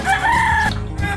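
Chickens and chicks on a farm, a close, loud fowl call with a sustained tonal cluck or crow lasting under a second, followed by softer clucking noise.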